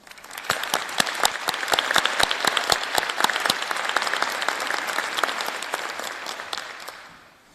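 An audience at a nursing pinning ceremony claps steadily, a dense, close and lively round of applause that holds for several seconds, then tapers off at the end.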